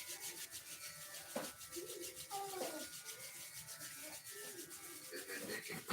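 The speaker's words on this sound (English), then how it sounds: "Rub the palms briskly." Palms rubbed briskly together during a yoga session: a soft, rapid rhythmic swishing friction repeats steadily, faint and close, with a few faint background chirps.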